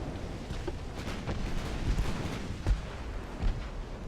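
Warship guns of 5-inch and 4-inch calibre fire in the naval game Ultimate Admiral: Dreadnoughts, producing a rapid run of booming shots and rumbling impacts, with a few heavier blasts standing out.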